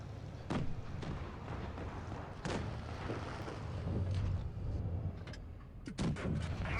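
Tank cannon shots in World of Tanks Blitz from an American tier 4 T40 tank destroyer, several sharp booming blasts spaced a second or two apart over constant low engine rumble and battle noise.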